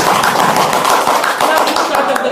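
Loud, close clapping from an audience, brisk and dense across the short stretch, with voices mixed in among the claps.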